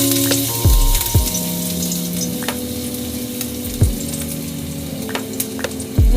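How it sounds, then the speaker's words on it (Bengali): Garlic tempering in hot mustard oil in a kadai gives a steady, close sizzle, with a few sharp clicks and stirring knocks scattered through it and no voices. "কড়াইতে সামান্য একটু সর্ষের তেল গরম করে নিয়েছি। এখানে দিয়ে দিচ্ছি রসুন ফোড়ন।"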